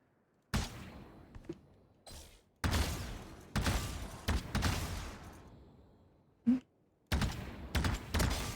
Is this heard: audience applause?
no